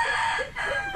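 Several chickens cluck and squawk close by in a brief, busy burst of overlapping calls.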